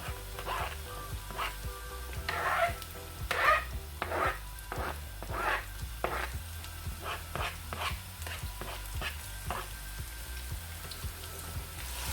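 Onions frying in a pan with repeated stirring scrapes, a steady run of sharp, fairly close clatters over a low background hum, with no voices.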